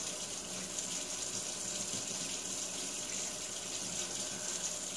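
Water runs steadily from a kitchen tap into a sink while boiled eggs are strained, a continuous hissing splash at constant level throughout, with no talking.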